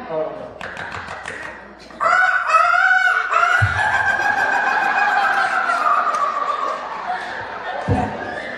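Someone imitates a clucking hen with a drawn-out, rising and falling cackle, close and loud, with laughter and voices around it.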